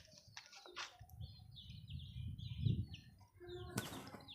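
Myna birds perched on a rooftop give scattered chirps and squawky calls, with a louder burst near the end, over low rustling and faint background noise.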